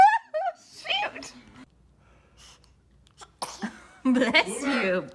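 A baby sneezes in short bursts, with small gasps and whimpers between them, close and clear, while adults speak in between.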